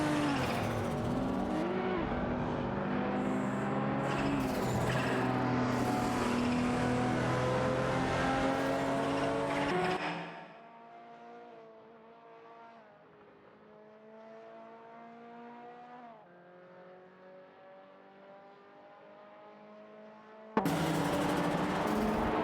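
Racing cars speed away on a racetrack, engines roaring loud and close with rising revs, then fading to a distant, quieter drone before a sudden loud burst returns at the end.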